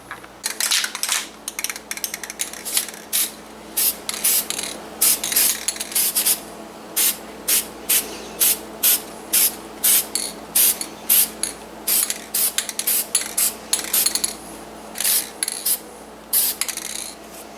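An aerosol can sprays paint onto rusty kitchen stove trim in short, evenly spaced hissing bursts close by, with brief quiet gaps between each pass and no talking.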